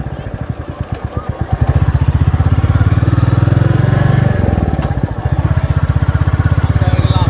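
A Royal Enfield Meteor 350 motorcycle thumps along while riding, its single-cylinder beat quickening and then holding a loud, steady, close pulse.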